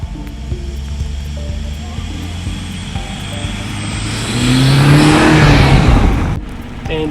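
A 2018 BMW 430i xDrive M Sport accelerating on an icy, snowy road: a close engine note holds steady, then swells into a louder rising surge before easing off.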